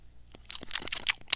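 Crunchy cheese snacks being eaten near the microphone, a few sharp, irregular crunches and crinkles over about a second with no talking.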